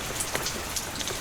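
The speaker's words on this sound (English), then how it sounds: "It's just rain." Steady rain falls, a soft continuous hiss broken by a few brighter drop patters, with no voices.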